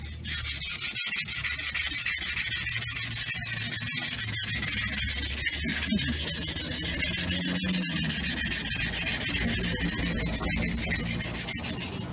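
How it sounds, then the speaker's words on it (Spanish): Steady scratchy rasping of sandpaper rubbing back and forth on a suspension fork, continuous and close, with no voices. "lo voy a lijar un poquito más."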